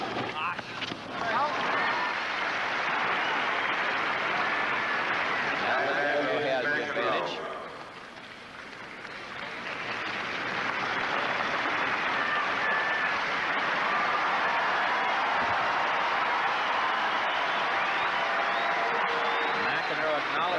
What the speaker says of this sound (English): Encouragement of the crowd.